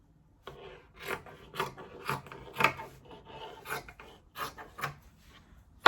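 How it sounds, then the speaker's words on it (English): Scissors trim the edge of fabric for an iro and buba outfit, giving a series of crisp, close snips and rasps in an irregular rhythm, with no talk. "I'm going to trim it so that we have a smooth edge"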